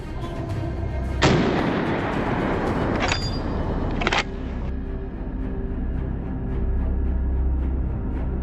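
Rifle shots fired at wild boar on a farm: three loud, sharp blasts spread over a few seconds, each one leaving a long rumbling tail over continuous outdoor background noise, with no voices.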